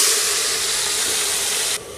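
Meat hits four to five tablespoons of hot oil in a pressure cooker and gives a loud, steady, steam-like sizzle. The sizzle carries evenly for almost two seconds, then drops sharply quieter.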